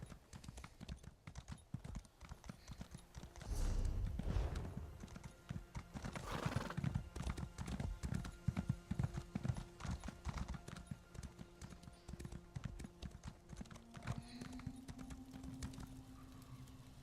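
Horse hooves gallop in the Elder Scrolls Online video game, a steady, continuous clip-clop rhythm running the whole way through at close range.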